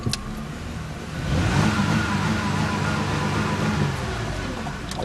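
A 2004 Jaguar X-Type engine in neutral idles, then revs up with a hesitant, slightly uneven rise and holds a raised, rough drone close by, with no talk.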